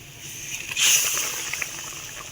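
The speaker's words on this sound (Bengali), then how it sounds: "গ্রেভিটা ফুটতে শুরু করে দিয়েছে" A yogurt gravy for potol curry simmers in a pan, giving a steady close hiss with soft bubbling that swells briefly near the start and then holds, with no talking.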